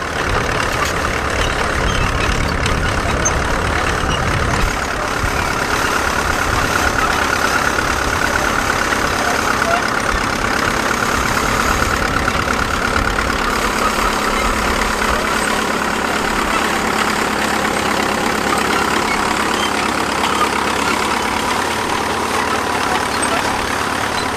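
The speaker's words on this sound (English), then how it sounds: "A TD6 working with a 3-furrow International trail plough." An International TD6 crawler tractor engine drones continuously nearby, a deep steady rumble with clanking undertones while pulling a 3-furrow International trail plough through the field.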